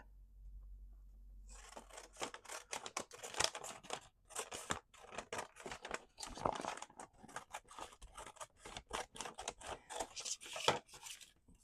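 Scissors cut along the side of an old book cover at close range, producing a long run of crisp, irregular snips and crunching paper-and-board cuts with brief pauses between them, no talking.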